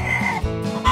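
A toy chicken snatching fries during play with fast-food toys gives a burst of squawking, bleat-like clucks, loud and close, with brief gaps between calls.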